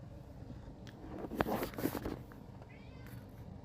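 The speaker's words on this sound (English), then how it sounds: "You can hear Sandy meowing" A pet cat meows faintly a couple of times in a quiet indoor room, short soft calls clustered in the middle over low background hiss.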